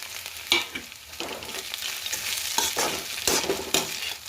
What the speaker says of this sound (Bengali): এবার বাদাম আর কারি পাতাটা দিয়ে দিচ্ছি।